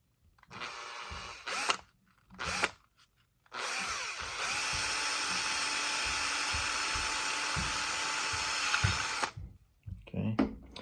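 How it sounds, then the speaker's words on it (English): A small power drill bores a hole into a part of a Huina 583 RC loader, starting with a few short bursts and then running steadily for about six seconds before stopping. "we can just drill it in the corner right here"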